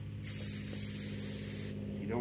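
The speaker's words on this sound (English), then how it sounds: "You just spray some brake parts cleaner in there." A can of CRC brake parts cleaner sprays in one steady, loud hiss lasting over a second during front brake pad and rotor work on a 2020 Dodge Charger, ending abruptly.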